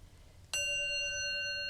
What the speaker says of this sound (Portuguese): Quando eu bato o sininho, por exemplo, ó, bati o sininho.